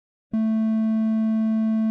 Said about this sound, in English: And that is a triangle wave.